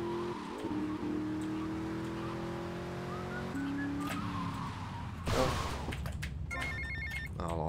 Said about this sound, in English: Tommy, oh, it's a long phone call. I shouldn't have answered it